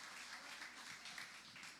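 A church congregation applauds, a faint, steady patter of many hands clapping together without a break.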